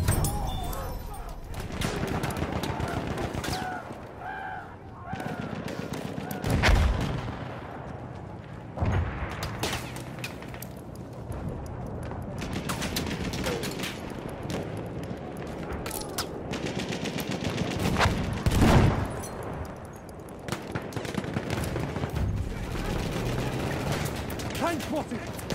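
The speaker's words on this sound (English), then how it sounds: "Enemy machine gun." Gunfire in a Battlefield 1 conquest match, with sustained rattling bursts and scattered sharper shots spread across the scene, plus a few louder nearby cracks, all layered under constant battle noise and intermittent in-game voice callouts.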